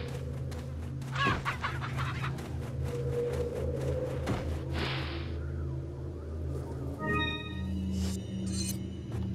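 Chickens cluck and fowl noises rise over a busy, layered ambient bed in Resident Evil 4's village, with sharp clicks and a brief tonal chime near the end; no voices.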